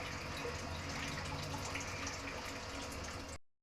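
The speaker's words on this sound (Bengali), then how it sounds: "ও দেখছো জল কি করছে এখানে?" Water running steadily from a tap or filling a vessel, a continuous close hiss and splash that holds even throughout and cuts off abruptly at the end, with no voices.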